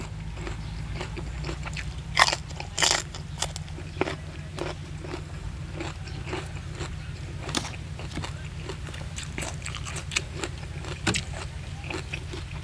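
Crunchy fried bitter gourd being bitten and chewed close up, with a few sharp crisp crunches over a steady low background hum and no speech.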